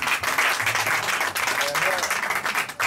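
Clapping from the guests at a traditional marriage ceremony, a steady patter of many hands lasting a few seconds, with voices talking and calling out over it.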